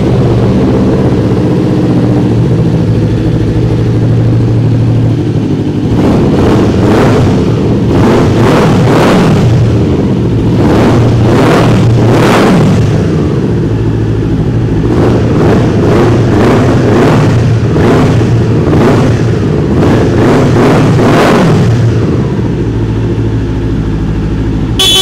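A twin-cylinder motorcycle engine fitted with a Scorpion exhaust, on a Gurgaon-registered superbike, idles steadily, then is revved hard in two bursts of quick repeated throttle blips, loud and close, with no talking.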